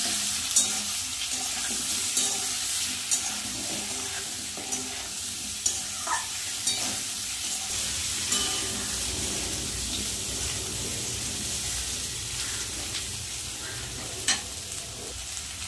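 Potatoes and soybean chunks seasoned with salt and turmeric fry in a pan, giving a steady close sizzle with occasional scraping stir strokes and light clicks, without talk.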